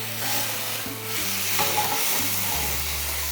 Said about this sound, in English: then the masalas are frying